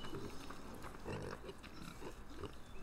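Several pigs grunt and oink at a pig facility in Farming Simulator 15, a steady cluster of snorts and squeals close by with no talking over it.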